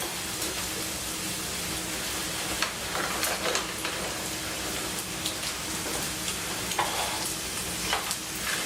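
Bacon and onions sizzle in a hot pan for bacon jam, a dense, steady crackle with occasional scrapes and clacks of a utensil stirring, close and fairly loud.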